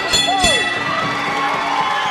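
Boxing crowd at a fight night cheering wildly, a dense roar of shouts and whoops with a sharp cry near the start, sustained and loud throughout.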